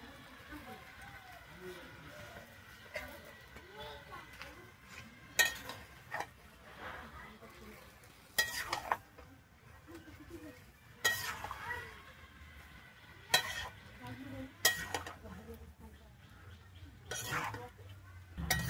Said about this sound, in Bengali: আমি পালং শাকটা কিন্তু খুব ভালোভাবে এখানে মিশিয়ে নিয়েছি